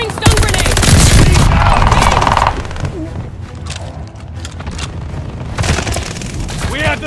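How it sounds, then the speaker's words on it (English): Stun grenade blast in Call of Duty Vanguard Team Deathmatch, a loud boom among rapid gunfire and machine-gun bursts, with in-game voices shouting over the dense combat. "Throwing stun grenade!"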